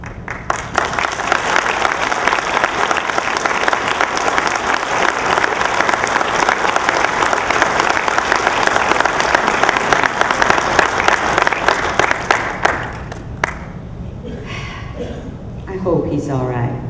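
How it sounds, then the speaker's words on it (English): An audience at a Vietnam Veterans of America Presidents' Award event applauds loudly and steadily for about thirteen seconds; the clapping then cuts off abruptly and a speaker's voice takes over. "all of you should applaud yourself"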